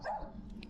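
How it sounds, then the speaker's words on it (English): A single short dog bark sounds at a moderate distance in a Serbian village, quick and faint, with no talk over it. "Dogs"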